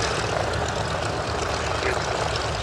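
A Rotorsport UK Calidus gyroplane flies a display at the Duxford Summer Airshow 2022, its propeller engine droning steadily and loudly overhead with a constant broadband roar, and a commentator talks over it.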